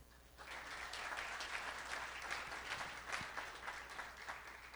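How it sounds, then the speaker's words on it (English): An audience claps steadily for several seconds, a dense and fairly distant ripple of applause that holds at an even level. "let's give a big round of applause to them for their support"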